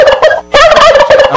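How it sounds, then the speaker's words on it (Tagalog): A farm turkey gobbles loudly and close, two rapid warbling bursts split by a short pause, with no voices over it. "Ang bagong miyembro ng farm ay pabo ho."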